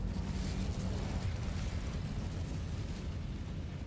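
An Incendio fire spell cast in the Hogwarts video game gives a steady, roaring burst of flame that holds for about four seconds, soft and even throughout.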